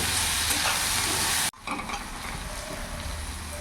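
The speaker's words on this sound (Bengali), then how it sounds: "আমি পেঁয়াজটা ভাজা ভাজা করে নেব" Chopped onions fry in a pan over a full gas flame for a chicken curry, a steady loud sizzle that cuts abruptly, then continues more softly.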